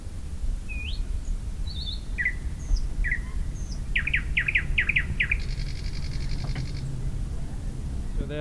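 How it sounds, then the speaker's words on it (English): Several birds sing near midnight under a lingering sunset sky in a big city by Lake Mälaren, with clear separate chirps and whistles, then a quick run of repeated notes and a buzzy trill over a low outdoor rumble. "and the birds are singing"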